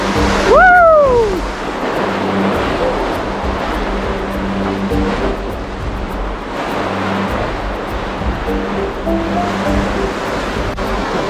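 Loud, steady roar of Class 4 whitewater rapids on the Payette River, churning continuously through the whole stretch while a raft runs the drop, with a brief shout of voices near the start.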